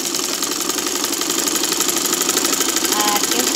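Sewing machine stitching a pillow cover, a fast steady mechanical whirr with rapid needle rhythm running throughout, close and loud.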